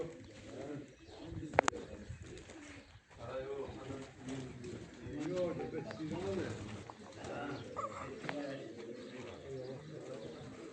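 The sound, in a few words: racing pigeons cooing as they take off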